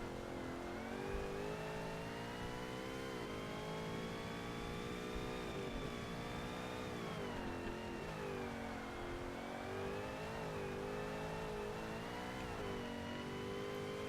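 Race car engine in Forza Motorsport revving and shifting continuously, a loud droning tone rising and falling through gears with no talking.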